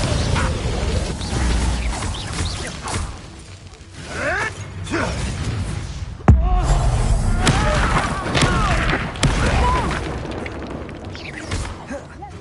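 The Incendio fire spell is cast in the Hogwarts Legacy video game amid booming magical blasts, thuds and crashing impacts, loud bursts rising and falling with one sharp hit midway and debris clatter after.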